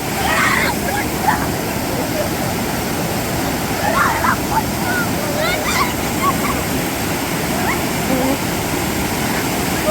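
A strong river current rushes steadily in Palakkad, Kerala, its loud broadband roar filling the scene throughout, with faint voices occasionally heard over the water.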